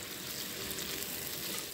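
Beef browns in a pan with onion, a steady, dense sizzle and hiss heard up close with no voices.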